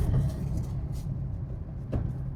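A car drives along during a driving lesson, giving a steady low road rumble and engine hum throughout, with no speech and a brief brighter swell near the end.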